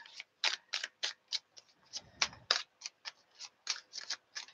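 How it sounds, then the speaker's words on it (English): Tarot cards being shuffled by hand in a quiet room, a rapid train of crisp riffling bursts repeating steadily with a soft thump partway through, close and fairly faint, with no voices. "My hands don't want to stop shuffling."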